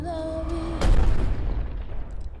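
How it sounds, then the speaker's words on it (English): Explosion on a volcanic island in the Jurassic World: Fallen Kingdom trailer; a held musical tone cuts into a single loud, deep boom that decays into a long rumble. "Island that's about to explode."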